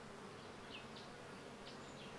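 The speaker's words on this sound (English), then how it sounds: "In this baobab, there is also a beehive." Bees buzz steadily in a soft, continuous drone from a beehive inside a baobab tree, with a few individual insects passing close by; no voices.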